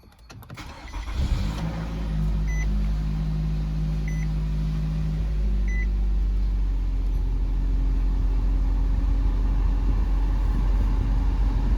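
A 2017 Nissan Rogue SV cranks and fires up, the starter whirring briefly before the engine settles into a steady idle, heard from inside the car with a few faint chime beeps and no talking.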